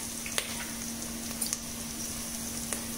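Green chilies fry in hot oil, a faint, steady sizzle with a few soft pops and crackles over a low background hum.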